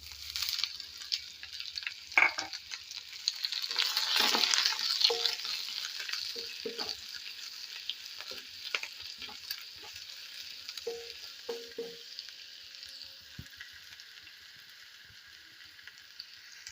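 Mustard seeds, dried red chillies and chopped onion fry in hot oil in a pan, a steady close sizzle with a louder crackling surge early on, then scattered pops and light stirring clicks that fade toward a quieter hiss.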